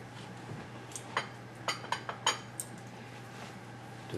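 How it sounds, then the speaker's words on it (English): A utensil stirs Thai coconut chicken soup in a pot, giving a few faint, sparse metallic clinks and scrapes against a quiet background hum, with no voices. "Give that a quick stir."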